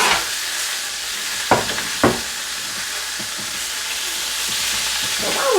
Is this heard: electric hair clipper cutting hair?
no